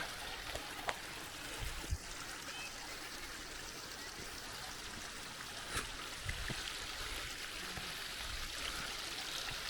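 A steady, continuous rush of cold stream water flowing over stones near old steps at Visapur Fort fills the whole stretch, with a few faint knocks and voices in the distance.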